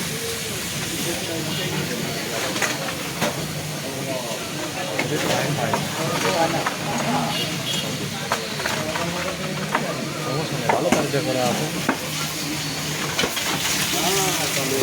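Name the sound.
new submersible water pump running, pumping out muddy water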